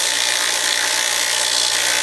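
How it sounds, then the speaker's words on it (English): A Norwalk juicer shaft being cleaned with sandpaper, a continuous close, dense scratchy rasp that holds steady without a break. "I'm going to use some sandpaper to clean the shaft"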